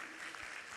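Audience applause in a conference hall, a brief, faint, steady wash of clapping from a seated crowd.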